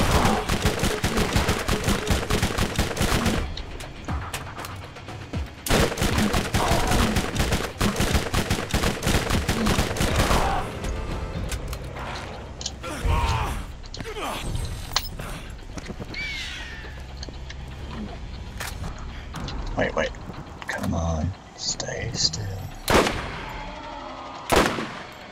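Rapid automatic gunfire from the player's weapon in the Borderlands video game, dense bursts of shots in long strings with brief pauses, loud and close, followed by scattered single shots and impacts, with no one speaking.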